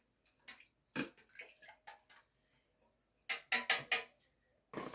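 A fish tank filter pipe is rinsed in bursts of splashing water, several short loud gushes separated by quiet pauses, with faint drips and small knocks between them.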